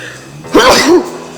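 A single sharp sneeze bursts out, brief and close, with a quick rising vocal burst, surrounded by quiet room tone.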